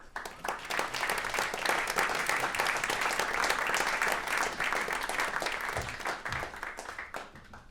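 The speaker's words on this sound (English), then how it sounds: "please give him a warm round of applause" An audience at a conference talk claps loudly and steadily for several seconds, the applause fading slightly toward the end.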